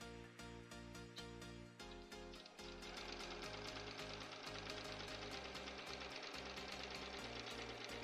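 A sewing machine stitches a straight line through heavy duck canvas fabric, its needle hammering in a fast, steady, loud mechanical rhythm close by. It pauses briefly early on, then runs continuously, with no voices over it.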